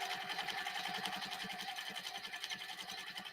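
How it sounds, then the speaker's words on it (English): A sewing machine free-motion scribble stitching for micro quilting runs steadily and close, its rapid needle rhythm pulsing evenly throughout with no talk. "I'm just doing some scribble stitching"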